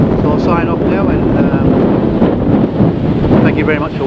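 Strong wind roars across the microphone on a very windy New Zealand beach, continuous loud buffeting with surf underneath and a voice briefly audible.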